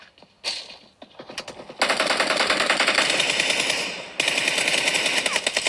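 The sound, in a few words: pistol gunshots in a mobile video game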